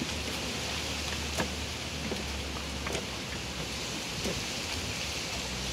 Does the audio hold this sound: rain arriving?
yes